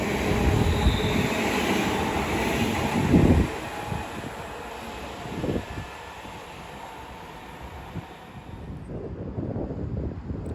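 Class 350 electric units 350-101 and 350-248 roll through Watford Junction, a loud steady rumble of wheels on rails with rhythmic clicks and a hum that eases off as they pass.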